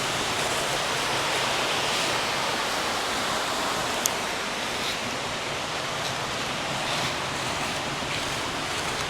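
Steady rushing of a calm creek flowing near its home property, a continuous broadband wash of water with no breaks, close and moderately loud throughout.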